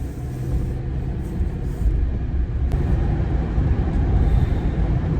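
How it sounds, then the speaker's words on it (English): A car drives along the road, heard from inside as a steady low rumble of engine and tyre noise that swells slightly over a few seconds, with no talking. "while I'm driving over to Home Depot here"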